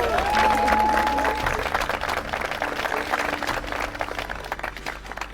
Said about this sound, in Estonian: ole hea. Aplausiga!